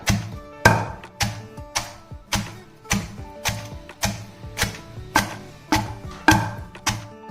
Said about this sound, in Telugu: ఇంకొకసారి నూరుకుందాం ఇట్లా దంచాలి